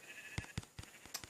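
Sheep bleat in Minecraft Pocket Edition, a soft, faint bleat mixed with several short, dull thumping hits as the sheep are struck for wool, all spaced a fraction of a second apart, with no talking.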